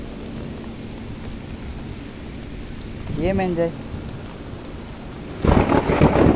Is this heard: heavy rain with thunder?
yes